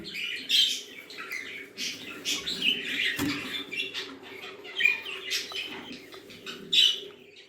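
Budgerigars chirp and squawk around a wooden nest box lined with wood shavings, a busy stream of high tweets and chatter, close and moderately quiet, without speech.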